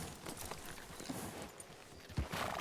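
Hooves of a horse in the Western role-play game RedM, a soft, fairly faint clip-clop pattern over a short stretch with a low background hum.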